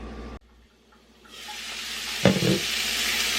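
Asparagus cooking in melting butter in a pan, a soft steady sizzle rising after a quiet start, with a brief clatter of the pan partway through.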